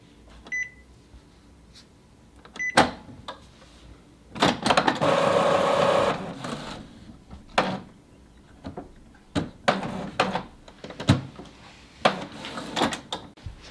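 Epson EcoTank inkjet printer running repeated print passes, with mechanical clunks and clicks, a sustained whirring feed stretch in the middle, and scattered short bursts of carriage and paper movement, close and alone.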